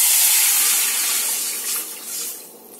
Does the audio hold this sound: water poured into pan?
yes